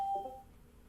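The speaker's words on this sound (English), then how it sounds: "Been hearing that beep. That's my coffee." A coffee maker gives a single short electronic beep, faint and quick, fading into quiet room noise.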